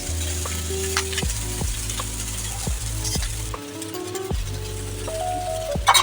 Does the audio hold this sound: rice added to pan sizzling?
yes